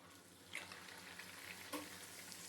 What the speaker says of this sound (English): fry the puri.